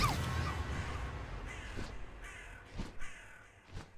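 Crows caw in the woods, several short rasping calls at irregular intervals, some close and clear, others fainter, over a quiet outdoor background.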